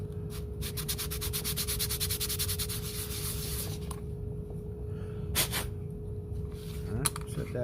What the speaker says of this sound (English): There's my sandpaper.